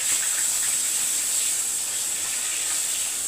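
Long-cut eggplant slices fry in hot oil for a hilsa curry, giving an even, close, continuous hiss with no breaks and no voices.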